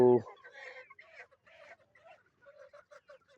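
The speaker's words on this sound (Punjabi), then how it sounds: "ਦੇਖੋ ਫ੍ਰੀ ਰੇਂਜ ਕਿੱਦਾਂ ਖਾ ਪੀ ਰਹੀ ਹੈ ਡਬਲ ਐਫ ਜੀ ਦੇਸੀ ਮੁਰਗੀ" Free-range desi hens feeding outdoors give soft, scattered clucks and murmurs, close and moderately quiet, with a short loud burst at the very start and no talk over them.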